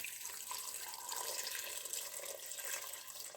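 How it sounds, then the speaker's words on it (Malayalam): Water pours in a steady, continuous stream over carrots, onion and garlic in an Instant Pot, a soft splashing rush heard close and fairly quiet with no talking. "നല്ലോണം വെള്ളം ഒഴിക്കുക. ഇത് മുങ്ങിക്കിടക്കണ തരത്തിൽ വെള്ളം ഒഴിക്കുക."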